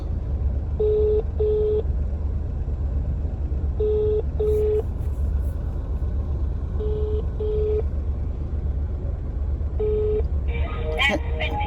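A phone call rings out: paired ringing beeps repeat every few seconds over a steady background hum, ending with a brief rustle.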